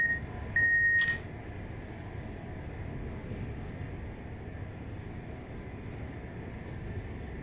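A simulated train in Train Life labors up a steep incline at full throttle, giving a steady low rumble that holds throughout, with a brief bright beep and tone near the start.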